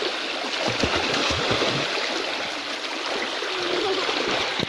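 An overflowing village stream rushes steadily nearby, a loud continuous flow of churning and gurgling water that carries on throughout.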